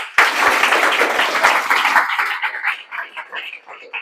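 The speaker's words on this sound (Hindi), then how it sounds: "आप लोग एक बार जोरदार ताली बजा दें" An audience claps loudly in honour of an IIT Roorkee computer science student, dense applause for about two seconds that then thins into scattered claps as a voice begins speaking.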